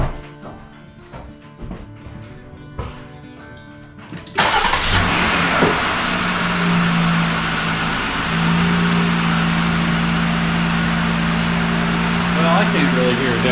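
A Jeep Gladiator fitted with a Rough Country cold air intake starts up after a few seconds of background music and settles into a steady, loud idle that continues to the end. A voice speaks briefly near the start.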